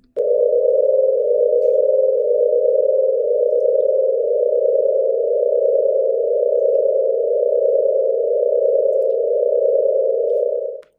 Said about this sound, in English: sound of a star like our sun